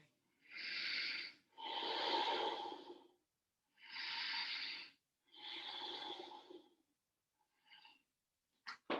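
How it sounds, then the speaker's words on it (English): Deep breathing in a yoga session, four long slow breaths in and out with pauses between, close and clear in a quiet room, then a shorter faint breath. "Deep breathing."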